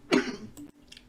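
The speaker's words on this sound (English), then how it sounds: "Sorry for the cough." A single sharp cough close to the microphone, followed by a brief rough throaty sound.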